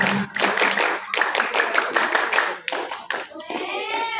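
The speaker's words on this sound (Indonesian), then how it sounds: "Tepuk pramuka." A group of students perform the Pramuka scout clap, a loud, close pattern of rhythmic handclap bursts in groups. Voices chant along, and a voice rises at the end.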